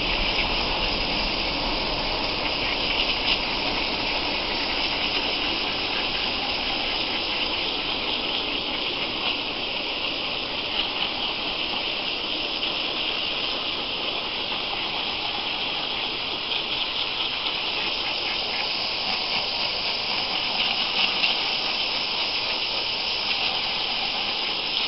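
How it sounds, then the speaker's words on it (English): Water gushes steadily into a pool, a constant rushing splash that holds unchanged for the whole stretch with no talking. "Now I'm going to add some water to the pool."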